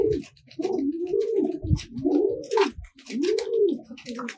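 Female tumbler pigeon in a loft cooing in several rolling, throaty phrases, close and clear, with faint rustling and no talk.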